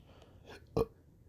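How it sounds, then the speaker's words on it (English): A single short, close burp, loud against a quiet background, with no other voices around it. "First of all, sorry for my burping."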